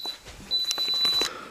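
A camera's self-timer beeps in a short run of quick electronic tones, a thin high pitch pulsing steadily at moderate loudness before the shutter fires, with faint room noise around it.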